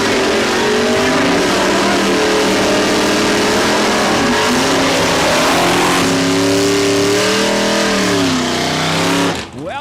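Chevy Malabeast drag car at Saskatchewan International Raceway, its engine roaring loud and continuous at close range with rising and falling pitch sweeps, then cutting off sharply at the end.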